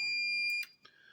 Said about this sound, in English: This turns the audible alarm on and off